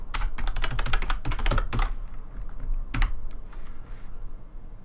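Rapid bursts of typing on a computer keyboard while entering config settings, close crisp key clicks in quick runs with short pauses, then a few sparse taps at the end.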